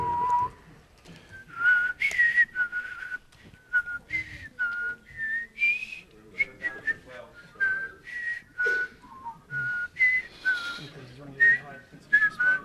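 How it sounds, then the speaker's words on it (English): A room full of programmers at a lightning-talk session whistles impromptu together, a loose, wavering group melody of short phrases with gaps between them, moderately loud and close. "don't trust a room full of programmers to whistle on impromptu"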